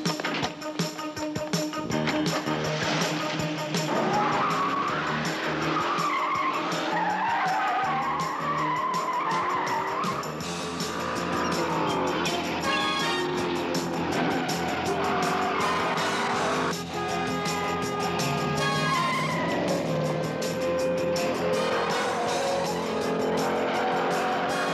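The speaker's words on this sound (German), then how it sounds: "Jetzt zeige ich den Damen mal, wie die Verfolgungsjagd abläuft." Car chase with repeated skidding and long squealing tires over a roaring engine, loud and continuous throughout, with engine revs rising and falling as the car swerves.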